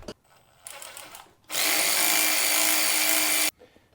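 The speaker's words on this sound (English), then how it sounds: "remove the lower isolator to frame bolt" Power tool driving out the lower isolator-to-frame bolt on a motorcycle during a stabilizer install, a loud steady whir running two seconds after a few brief quieter bursts, alone with no talk.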